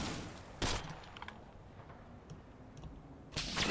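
Gunfire in the Combat Mission wargame, with two sharp, loud bursts at the start and end and scattered faint distant shots and clicks crackling in between.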